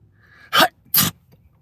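Two short, sharp sneeze-like bursts in quick succession, close and loud, separated by a brief pause, with quiet background otherwise.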